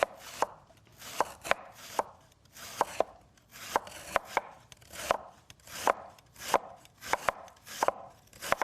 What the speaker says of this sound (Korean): 네, 이렇게 연근 좀 썰어 놓으시고요.